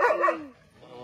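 A single short dog bark with a whiny, falling tail, fairly close, followed by quiet background.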